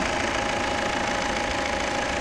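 A 2015 Volvo XC60 2.0 D4 diesel engine idles throughout, a continuous low rumble with a faint rhythmic knock, close and fairly loud, with no voices.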